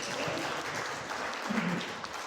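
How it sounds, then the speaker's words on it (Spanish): An audience at a medical talk on progesterone applauds a doctor with steady, moderately loud clapping that carries on throughout, with a brief voice partway through. "Un aplauso para la doctora"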